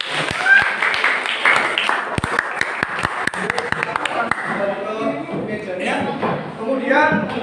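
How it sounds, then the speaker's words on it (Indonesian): Students in a classroom clap for a classmate, a scattering of sharp, separate claps rather than full applause, with people talking throughout. "beri tepuk tangan yang meriah untuk Kansa"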